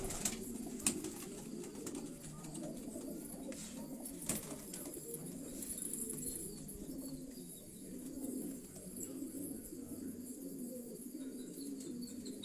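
Racing pigeons in a loft in Quetta coo softly and repeatedly, low throaty murmurs overlapping in a steady chorus, with occasional faint chirps and a wing flutter in the background, quiet and close.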